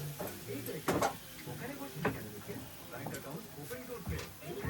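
Steady sizzling in a hot pan as flatbreads fry, with repeated scraping and clinking of a utensil; voices murmur faintly nearby.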